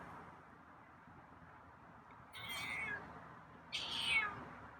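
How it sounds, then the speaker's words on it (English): A feral cat called Scruffy meows twice outside a door, two short, moderately loud calls about a second and a half apart over a steady low background hum. "Wow, okay. A couple meows."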